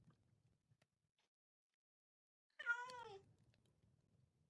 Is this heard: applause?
no